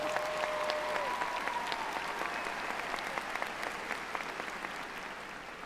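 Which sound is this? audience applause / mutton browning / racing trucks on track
audience applause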